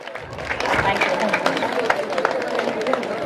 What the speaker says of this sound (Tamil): சோ இந்த இசை கலைஞர்களுக்கு ஒரு பலத்த கரகோஷம்.